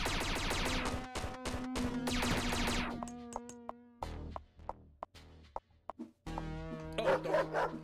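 A dog in the Paradox Soul video game barks repeatedly, near and loud, with sharp yips in short bursts over a game's tonal hum, no talk.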